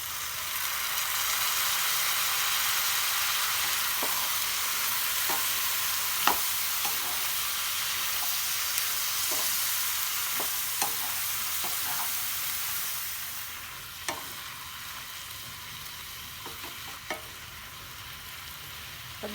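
Soaked chana dal frying and being stirred in a pan, a steady loud sizzle with occasional sharp scrapes and clicks of the spoon, all without speech.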